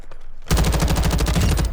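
A rapid burst of fully automatic gunfire from a weapon in Warzone 2.0, opening with a single shot and then a steady rattle of evenly spaced, loud shots close by, with no voices.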